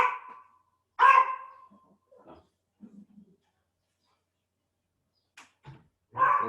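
A dog named Guilherme barks indoors in a few sharp, separate bursts: one at the start, a loud one soon after, and another at the end, with quiet gaps and faint sounds between.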